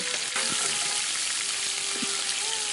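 Onion, ginger, garlic and green chilli paste frying in oil with bay leaf, cinnamon and cardamom for a banana flower kofta curry, a dense continuous sizzle with a few faint stirring knocks, close and steady.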